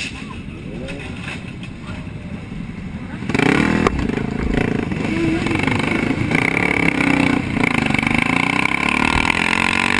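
Motorcycle engines of a biker gang rev and drone loudly on a busy highway after a quieter opening, a sustained roar with rising and falling pitch filling the rest of the clip.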